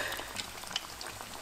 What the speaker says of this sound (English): I'm going to continue to fry our quesadilla about a minute and a half on each side